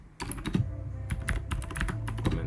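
Keys clatter on a computer keyboard as a shortcut is typed to comment out code, with quick irregular clicks and taps sounding close and fairly loud throughout.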